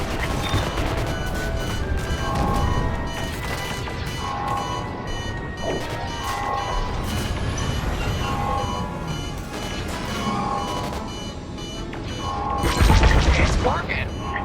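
Bombs exploding in a Star Wars Squadrons space battle: a steady engine drone with repeating tonal alarms and scattered impacts, building to a loud, close burst of explosion near the end while voices talk over it.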